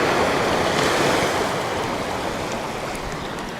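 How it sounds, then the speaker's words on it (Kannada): At a South Goa beach, river water meeting the sea makes a steady, loud rushing wash, with surf and wind noise filling the whole stretch and slowly easing off. "ನದಿ ನೀರು ಸಮುದ್ರಕ್ಕೆ ಮಿಕ್ಸ್ ಆಗ್ತಾ ಇದೆ."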